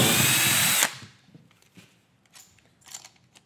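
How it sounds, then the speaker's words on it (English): Power drill with a countersink bit boring into rough lumber, a loud high whine for under a second that stops abruptly, followed by faint clicks and handling noises. "You countersink your hole."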